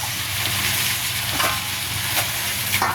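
Carrots and potatoes fry in a hot pan for lumpia, giving a steady, close, dense sizzle with a few soft stirring scrapes over the full three seconds and no voices.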